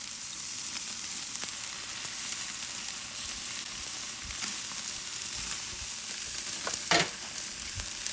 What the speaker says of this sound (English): you can add a nice char by placing the chicken in direct heat for about 30 to 60 seconds per side.